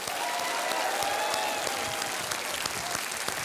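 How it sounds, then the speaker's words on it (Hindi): A studio audience claps steadily to welcome a player onto a game show, dense and even applause filling the whole stretch with no talking over it. "तालियों के साथ उनका स्वागत किया जाए।"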